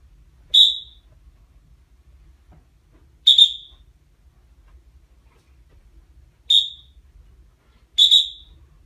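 Four short, sharp high-pitched dog training whistle blasts sound at uneven intervals over near silence.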